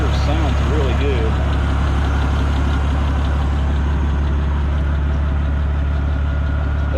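The propane engine of a vintage Hyster forklift idles steadily with a low, even rumble that runs loud and constant throughout. Someone talks over it near the start.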